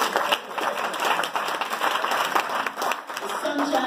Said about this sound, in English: We really should applaud ourselves.